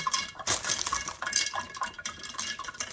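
Food being mixed with a utensil in a bowl: quick clinking scrapes and stirring taps in an irregular rhythm, close and fairly loud, with no talking.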